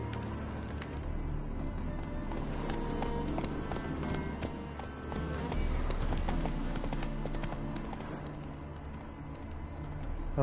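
Hooves clip-clop in a fast, steady rhythm as a horse gallops in The Witcher 3: Wild Hunt, over constant background noise and a low hum with a faint voice.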